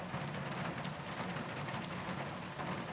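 Heavy, steady downpour pours down in a dense, continuous hiss with no letup, loud and close, with no voices present.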